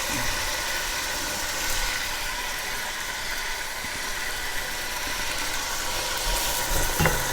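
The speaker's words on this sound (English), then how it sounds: "as we're browning the meat, we're gonna add the onions" Pork and onions browning in a pot for a Greek pork stew, giving off a steady, close hiss of sizzling that holds an even level throughout with no talking.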